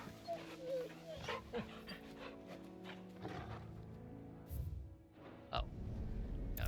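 Dog panting in the game Final Fantasy XVI, soft breathy panting mixed with game music and effects, with someone talking over parts of it.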